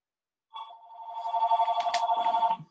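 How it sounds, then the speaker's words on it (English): A telephone rings during a roll-call vote at a public meeting, a steady warbling electronic ring pulsing in quick repeated bursts for about two seconds, fairly loud and close, with no talk over it. "Whose phone is ringing?"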